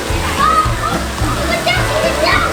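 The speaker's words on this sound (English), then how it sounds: "This is like the little splash pad for kids." Water sprays and splashes at the Splashaway Bay kids' splash pad on a Royal Caribbean cruise ship, a steady rushing spatter with children's voices and nearby talk layered over it.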